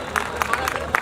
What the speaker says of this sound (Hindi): एक बार जोरदार तालियां बजाकर अभिवादन कीजिएगा